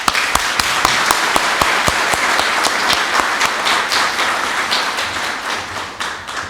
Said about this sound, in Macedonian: да им се заблагодариме со еден искрен аплауз